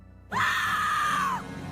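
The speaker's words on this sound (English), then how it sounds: "Thank you for triggering the scream." A single sustained scream from the adventure game EcoQuest: The Search for Cetus rises sharply and holds loud and steady for about a second before cutting off, with no talking.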